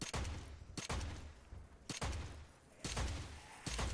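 Gunfire from the video game Strange Brigade cracks out in five sharp, evenly spaced shots, each a loud burst followed by a short decaying echo, with no voices.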